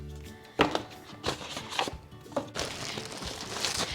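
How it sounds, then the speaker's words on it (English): A knife chopping leftover butter finely on a cutting board, a handful of sharp, separate knocks at uneven intervals, then quicker, scraping cuts close up and quiet, with no talking. "then you're gonna cut your butter up fine"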